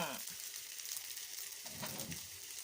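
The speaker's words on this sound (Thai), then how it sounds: "แล้วก็ผัดน้ำพริกแกงนะคะ" Red curry paste stir-fried in coconut milk instead of oil for a bitter gourd curry, a steady close sizzle with a few soft scraping stirs in the low end.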